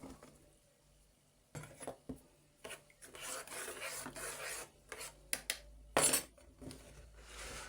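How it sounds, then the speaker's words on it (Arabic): Freekeh grains rubbed and rinsed by hand in a bowl of water, a faint rasping, scraping swish with irregular clinks and louder bursts of grain stirring, no talking. "نغسلو الفريك تاعنا مليح بالماء باش يتنحاولوا الشوائب اللي فيه"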